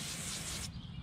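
A steady, loud hissing spray of Super Clean cleaner from a trigger bottle onto a tire, broadband and continuous, easing slightly in brightness near the end.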